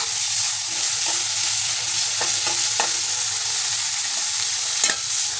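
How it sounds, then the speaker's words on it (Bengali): Spices and vegetables fry in hot oil for a momo filling, giving a steady close sizzle broken by occasional scrapes and clinks of stirring, with no talking. "তেলটা গরম হলে এবার মশলাগুলো, ভেজিটেবলসগুলো দিয়ে দেবো"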